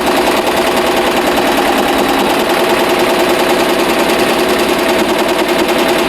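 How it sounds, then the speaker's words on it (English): An embroidery machine sews a bean stitch on a travel bag with a loud, rapid, evenly pulsing mechanical chatter that runs steadily and close throughout. "it just did the bean stitch to hold that in place"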